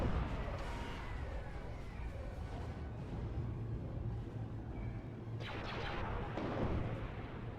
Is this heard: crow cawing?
no